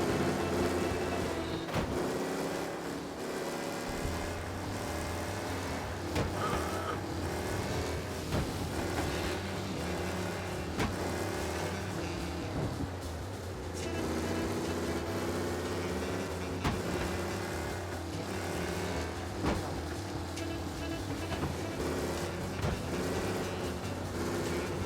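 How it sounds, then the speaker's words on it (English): Racing car tearing through city streets during a police chase in Mafia: Definitive Edition, a loud, continuous engine roar with sharp bursts and clatter layered over it throughout. "Race car breaking the limit through the city."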